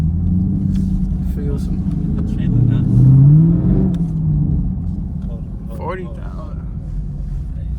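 A Camaro SS pulls hard on the road, its engine swelling to a loud, rising roar midway before easing back, with wind buffeting and someone talking over it.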